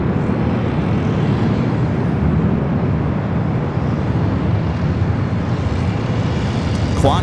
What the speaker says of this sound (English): Got this WestJet heading to Vancouver, flight 1103, a 737 MAX 8, now pushing back from Terminal 2.